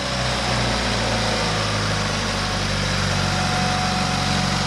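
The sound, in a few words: engine idling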